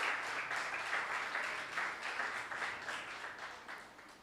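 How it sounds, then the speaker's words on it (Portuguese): Steady applause from a church congregation, a dense wash of clapping that continues evenly for several seconds at a moderate distance. "Pode aplaudir Jesus."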